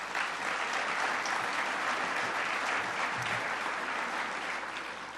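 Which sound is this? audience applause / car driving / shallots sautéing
audience applause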